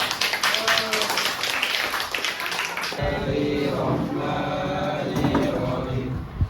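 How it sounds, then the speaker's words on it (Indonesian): A school class claps hands in a classroom, a burst of quick, close clapping for a few seconds, followed by voices speaking and chanting. "Oke, tepuk tangan."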